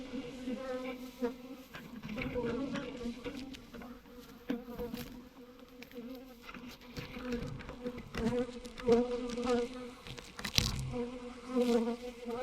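A honey bee swarm buzzes steadily during a rescue, a dense droning hum with individual bees whizzing close past, rising and falling in loudness throughout.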